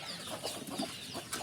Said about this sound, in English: So these are our country chickens